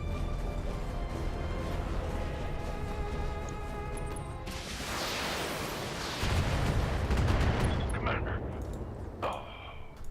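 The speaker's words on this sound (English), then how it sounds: "He got injured by LRM fire." Explosive bursts and rumbling impacts of long-range missile fire in the Battletech mech combat video game, loud and dense, swelling in the second half over game music.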